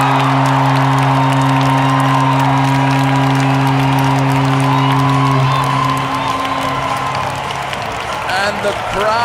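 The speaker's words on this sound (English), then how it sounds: "And the crowd is going crazy. Toronto just did a home run." A baseball crowd roars and cheers after a home run by Toronto, a loud, sustained wall of noise with horn-like tones, heard with a person talking over it.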